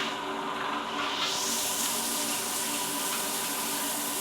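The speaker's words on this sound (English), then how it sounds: "that's quite a nice shower that is." Water from a rainfall shower head in a hotel room pours in a steady, dense hiss that stays loud and unbroken, with no voices.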